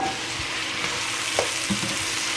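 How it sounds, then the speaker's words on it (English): Tomatoes with tomato paste sautéing in a pot for fish chowder, a continuous soft sizzle with a couple of faint spoon knocks and stirs, no talking. "stir it together and saute it for 2 more minutes"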